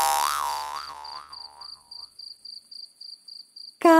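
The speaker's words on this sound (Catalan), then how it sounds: "i el petit grill en el prat florit canta el seu ric" A cricket chirps in a Catalan children's song, a rapid regular series of short high chirps after the sung melody fades, faint and close, before the music resumes.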